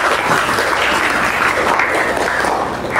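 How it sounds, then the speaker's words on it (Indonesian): Classroom applause for a student group during a teaching performance assessment, a dense, loud, continuous clapping from many hands lasting the whole moment. "tepuk tangan untuk kelompok 2"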